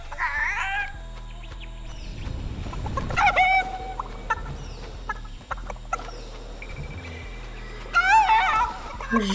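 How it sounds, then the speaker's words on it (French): Chickens cluck and squawk in Fortnite season 6, sharp bursts near the start, around three seconds and again near the end, set over a low steady game background without talk. "Oh, les bruits des poules, ils me fument!"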